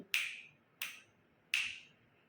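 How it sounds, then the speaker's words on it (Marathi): A teacher snaps her fingers three times in a row, each crisp, close snap evenly spaced with short decay in a quiet classroom, no voices. "मी इथे चुटक्या वाजवते तीन चुटक्या वाजवते"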